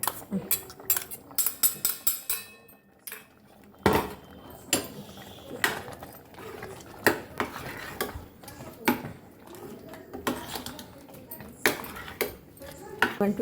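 A spoon scrapes and clinks against a pot while coconut and tamarind are stirred into bisi bele bhaat, a soft cooked rice-and-lentil dish. The sharp metallic knocks come close and loud in an irregular rhythm throughout.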